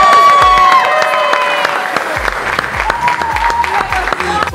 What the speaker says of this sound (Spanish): Un aplauso para ustedes y vamos para adelante.